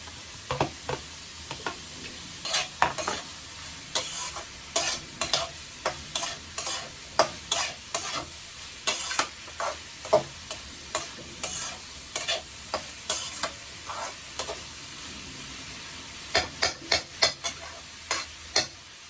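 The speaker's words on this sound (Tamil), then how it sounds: "நல்லா வெங்காயம் வதங்கிட்டோம்." Onions sautéing in oil in a pan for a Tamil fish puttu curry, with a constant close sizzle and repeated sharp scrapes of a spoon stirring against the pan throughout, no voices.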